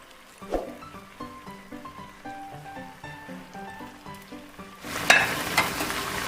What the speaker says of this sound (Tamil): இந்த சைடில் வந்து டீப் ஃப்ரை பண்ணதுக்காக ஆயில் ஹீட் பண்ணி வச்சுருக்கேன்.